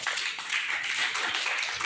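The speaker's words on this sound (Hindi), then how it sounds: "आदित्य के लिए एक बार ताली बजा दो बेटा" Children in a classroom clap together in a brief burst of quick, dense applause for a classmate named Aditya, the clapping steady and fairly close for under two seconds.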